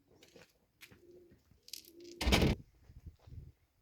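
A white Arab breed pigeon coos outdoors in short, soft repeated calls, with a louder rustling burst midway, close by and alone without talk.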